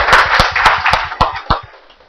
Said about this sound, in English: One loud clap, loud tali bajao, loud tali bajao.